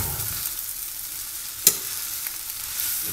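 Mutton fried rice being stirred in a home cooking pan, giving a faint steady sizzle with one sharp scrape of the spoon against the pan midway.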